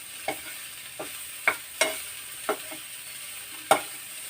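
Beetroot fries in a pan over high heat, a soft steady sizzle broken by about six distinct scraping strokes of a spoon stirring it, close and clear with no one speaking.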